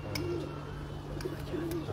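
Pigeons in a loft of racing birds give a few soft, low coos over a steady background hum, fairly faint and spaced out across two seconds.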